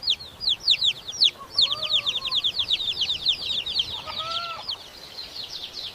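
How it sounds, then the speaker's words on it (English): Chicks cheep in a steady stream of high, rapid peeps close by, several birds overlapping, with a couple of lower hen-like calls mixed in and no speech. "These are chicks."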